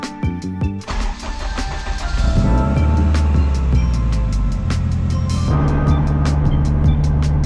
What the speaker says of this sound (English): Now this is the first drive with hopefully the fixed cooling system